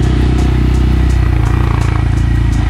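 A small Honda Monkey mini motorcycle being ridden, its engine a steady, close, continuous low buzz with faint clatter throughout.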